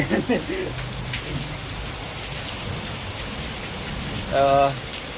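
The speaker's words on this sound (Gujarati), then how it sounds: "વરસાદ આવે ફૂલે ફૂલ ને નાવાની મોજ આવે છે" Rain pours steadily in Bhavnagar with a constant hiss; a brief voice or shout breaks in near the start and another short vocal sound near the end.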